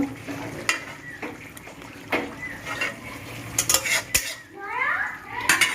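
Fried okra (tel bhindi) is scraped out of a pan with a metal utensil, giving repeated clattering and scraping knocks of metal on metal over a faint sizzle, close by and fairly loud, with no talking.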